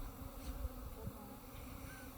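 Honey bees buzzing in an open hive, a low, steady, faint swarm hum with no voices over it.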